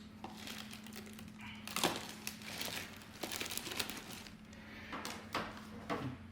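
Packaging crinkles and rustles close by while a Montech MKey TKL mechanical keyboard is unboxed, with irregular crinkling broken by a few sharper thumps and snaps of cardboard and plastic.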